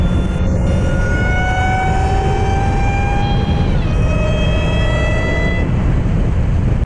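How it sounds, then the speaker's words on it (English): Supercharged car with its supercharger whine boosted in editing, a loud steady broadband engine roar with rising and falling high whistling tones sweeping over it, continuous throughout with no talk. "You can hear the supercharger is a lot louder now."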